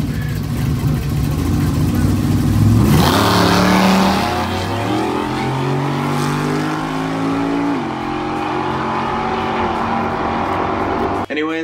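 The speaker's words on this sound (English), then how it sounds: "we'll go ahead and end this video off by watching a 327 go down the drag strip" A car with a Chevy 327 small block V8 launches down a drag strip, its loud engine roaring and climbing through rising revs with gear changes, heard from trackside as it pulls away.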